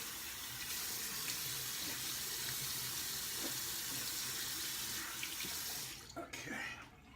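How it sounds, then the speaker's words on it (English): Tap water runs steadily into a sink to rinse alum off after a shave, a continuous close splashing hiss that tapers off near the end. "And now we're going to rinse off the alum."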